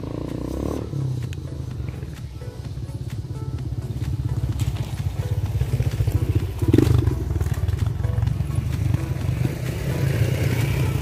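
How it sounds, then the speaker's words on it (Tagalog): A motorcycle engine drones steadily and close by on a rural road in Don Marcelino, Davao Occidental, a low rough rumble that holds its level and grows slightly louder toward the end. "So may motor."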